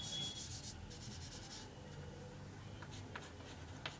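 Chalk or marker writing on a classroom board sounds as faint scratchy rubbing strokes in short bursts against a quiet room, with no talking.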